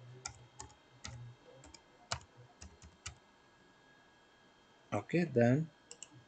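Keystrokes on a computer keyboard entering a password for a HiLook IP camera, scattered irregular clicks at close range, followed by a brief spoken phrase near the end.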